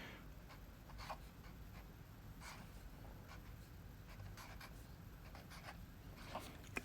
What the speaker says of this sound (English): so I'm writing in a 1st century Roman majuscule cursive script here.